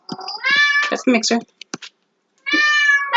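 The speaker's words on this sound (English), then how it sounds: "that's my cat again." A house cat meows several times close by, drawn-out harmonic cries broken by a few brief clicks and a pause, while a person speaks briefly in between.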